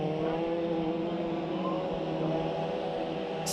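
Race cars battling in a heat race at Bakersfield Speedway, a steady droning engine roar from the field at a distance, continuous and even, with no other sounds over it.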